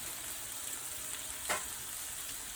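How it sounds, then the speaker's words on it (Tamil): Tomatoes with salt and turmeric sautéing in a pan for chicken varuval give off a faint, steady sizzle, with one brief stirring scrape partway through. "இதை நல்லா கலக்கி விட்டுட்டு தக்காளி நல்லா வதங்கட்டும், மசிஞ்சு வரணும்."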